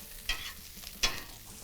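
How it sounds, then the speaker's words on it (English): Food is stirred in a sizzling pan, with two distinct scraping strokes of a utensil rising over a steady background frying hiss. "Fresh pepper, one more stir."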